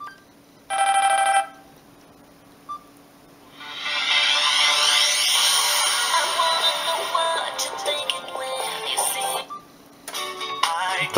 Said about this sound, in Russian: Здесь все те же самые рингтоны, что и в старшей модели.